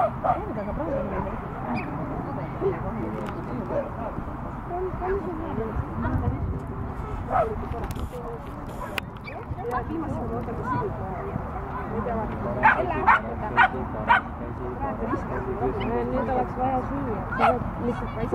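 A dog barking, yipping and whimpering outdoors in short intermittent bursts, with people talking at length throughout.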